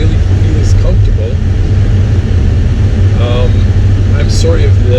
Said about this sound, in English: AC exhaust is too loud.